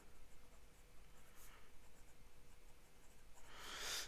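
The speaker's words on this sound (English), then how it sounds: "So let's do a writing sample." Faint scratch of a Leonardo MomentoZero Grande copper fountain pen with a medium steel nib gliding across paper, soft and close, ending with a louder brushing rustle.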